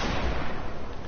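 Gunfire from a hunting weapon in a video game, a brief loud burst of blasts that comes close and harsh, with no talking.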